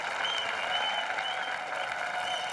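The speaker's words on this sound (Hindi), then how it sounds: "इनके लिए जोरदार तालियां" Studio audience applause on a Hindi TV comedy show, a steady dense wash of clapping held at even loudness throughout, with no talk over it.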